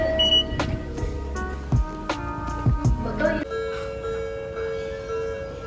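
Tokyo railway level crossing signal bells ringing in quick repeated dings, with a few thuds and clatters nearby, then a steady sustained tone carrying on after the ringing stops.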